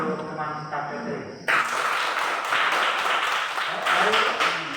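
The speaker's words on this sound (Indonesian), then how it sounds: "Tepuk tangan untuk teman kita Petri." Students in a classroom break into applause, a dense burst of clapping that starts abruptly after a voice and continues steadily, fairly close, with talk faintly underneath.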